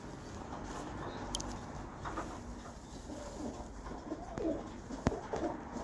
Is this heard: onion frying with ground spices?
no